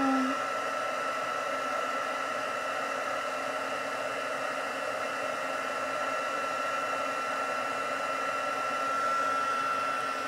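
A heat tool melts embossing powder on a handmade card, producing a steady, close, loud blowing whir like a small hair dryer that runs without a break through the whole stretch.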